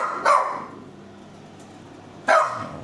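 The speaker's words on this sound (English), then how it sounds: "they got a dog that won't stop barking" A dog barks twice indoors in a duplex, two sharp loud barks about two seconds apart with quiet room tone between.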